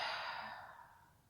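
A single long, deep exhale during a relaxation exercise, soft and breathy, fading gradually over about a second, close and quiet.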